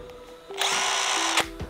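A compact 12V impact wrench whirs and hammers while swapping tractor tiller blades, a loud steady burst of just under a second with short trigger blips around it.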